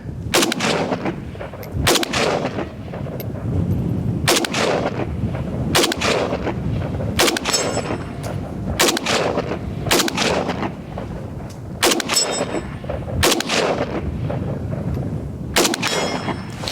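A Bear Creek 7.62x39 AR-15 upper fires about ten sharp, loud shots at uneven intervals, each a hard crack with a metallic ring, over continuous background rumble and no speech.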